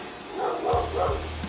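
A dog barking indoors, three sharp barks spaced about a third of a second apart, close and loud over a background of music.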